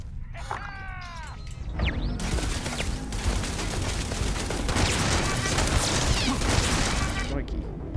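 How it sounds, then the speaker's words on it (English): Starfield turrets open fire in a sustained, heavy barrage of rapid shots and booms that builds after a moment and rolls on continuously, with chirpy electronic sounds at the start and a voice briefly underneath. "They are turrets."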